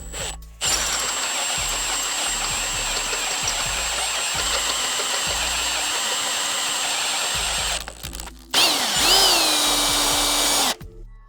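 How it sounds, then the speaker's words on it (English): A power drill runs steadily at high speed for several seconds, stops briefly, then whines again with a rising pitch before cutting off, drilling out a hole on a 1992 Yamaha XV750 motorcycle. "So I'm going to drill out this top hole."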